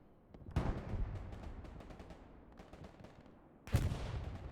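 Artillery fire in the World War II shooter game Hell Let Loose: two heavy booming blasts, the first followed by a long rumbling tail of scattered crackling impacts, the second arriving sharply a few seconds later.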